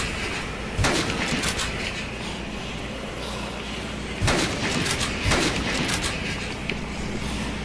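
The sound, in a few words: sniper rifle shots at zombies in Dead Rising video game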